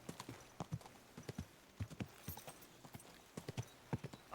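Horse hooves clip-clopping at a steady walking rhythm in the medieval video game Kingdom Come: Deliverance 2, close and clear with a brief whinny-like sound near the end.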